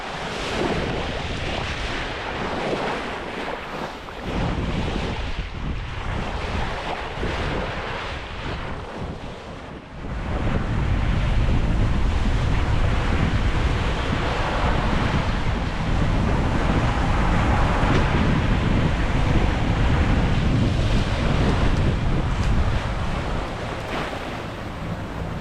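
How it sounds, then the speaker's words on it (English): A modern racing cruiser sails across the Pacific through big ocean waves, with a constant roar of wind and rushing water around the hull that swells louder and fuller partway through. "Big waves and strong ocean currents is now and then sending us on a surf going faster than the wind."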